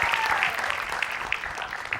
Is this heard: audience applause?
yes